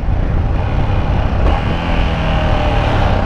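A Honda XJ 'meiota' motorcycle roars loudly and continuously during a wheelie, a dense close engine drone with a slight shift in tone midway and no speech.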